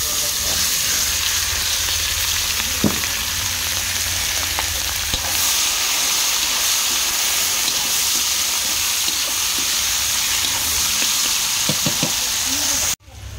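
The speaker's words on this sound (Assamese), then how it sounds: "এইফালে বিলাহী পিঁয়াজ এতিয়া ভাজি" Onion and tomato frying in a pan for a traditional Assamese dish make a loud, steady sizzle close by, with occasional clinks and stirring scrapes, cut off abruptly at the end.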